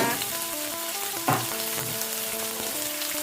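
Catfish stir-fried in a pan for a Thai jungle curry, a strong, steady sizzle with one sharp clatter from stirring partway through, no speech.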